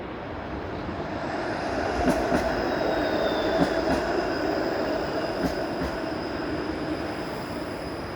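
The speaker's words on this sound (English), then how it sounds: "There's the 504 King Street streetcar, which would normally be packed at this time." A Toronto 504 King Street streetcar rolls past on a city street, a steady rumble of rail noise with repeated high wheel squeals and clicks as it goes by.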